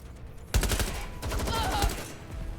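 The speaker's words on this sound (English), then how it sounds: "Shots fired." Gunfire in the video game Watch Dogs Legion: a rapid burst of automatic shots starting abruptly, then a second stuttering volley, dense and fairly loud throughout.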